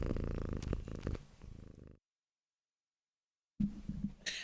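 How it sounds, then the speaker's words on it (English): A domestic cat purrs quietly and close, a soft rhythmic rumble that drops out into silence for a moment before resuming. "Bella, you were purring so loud."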